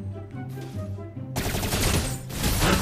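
Video game gunfire erupts in a dense rapid burst, loud bangs following a quieter stretch of in-game sounds.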